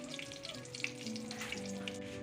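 Nargisi koftas deep-fry in hot oil, giving a dense, steady close sizzle with small pops and bubbling throughout, no voices.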